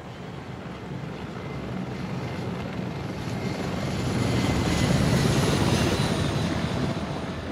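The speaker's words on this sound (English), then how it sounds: "You hear that? Enemy helicopter! Get down!" A helicopter in the video game Arma 3: rotor thumps and engine drone fill the scene, swelling slightly louder midway as it passes nearby, with no talking.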